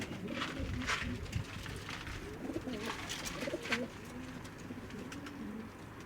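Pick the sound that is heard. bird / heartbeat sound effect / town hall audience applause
bird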